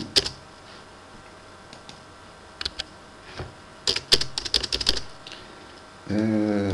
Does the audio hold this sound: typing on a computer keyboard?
yes